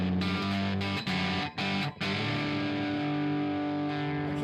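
An electric guitar plays the SoHo opening riff with echo and reverb, heavily distorted and sustained, with a few brief gaps before ringing on steadily and loudly.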